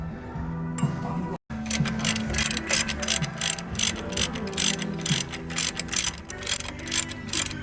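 A ratchet loosening 18 mm brake bolts on a Chevy 2500HD pickup, its pawl clicking in rapid, steady bursts close up after a brief start, with a short gap before the continuous ratcheting resumes; no speech.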